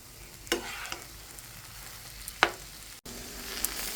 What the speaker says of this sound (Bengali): আমার চাল কুমড়াটা প্রায় ভাজা হয়ে গেছে